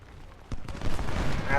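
Cannon artillery fire in the Civil War strategy game Ultimate General: Civil War, a dull boom followed by a dense rolling rumble of battlefield gunfire that builds and stays loud.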